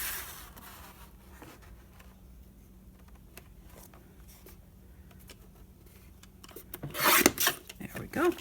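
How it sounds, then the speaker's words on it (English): Paper trimmer slicing lap book paper: a quiet stretch of faint handling, then a short loud rasping cut with a scraping blade sweep near the end. "just cut it quick with the trimmer"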